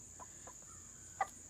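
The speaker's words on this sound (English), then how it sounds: "But we've got tons of chickens out here." Chickens clucking outdoors at a country home, with a few brief, soft clucks and one louder call standing out over steady insect buzzing in the background.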